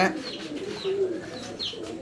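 Kept pigeons coo softly close by, a few low throaty calls over faint background noise.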